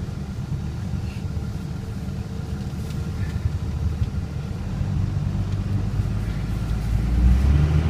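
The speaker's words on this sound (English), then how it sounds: "This thing sounds really nice." The Cummins diesel engine of a 2002 Dodge Ram pickup with a cold air intake rumbles steadily with a deep, low throb, growing slightly louder toward the end.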